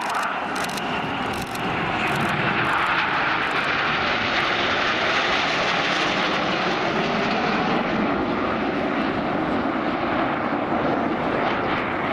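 RAF Red Arrows jets roar overhead at an air show in Portrush, a loud, sustained engine rumble that swells and holds steady across the whole stretch.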